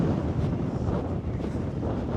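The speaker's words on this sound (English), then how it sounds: "It's windy. My hat might blow off." Strong wind buffets the microphone while crossing an airport runway, a continuous low roaring rumble with gusty swells and no clear pauses.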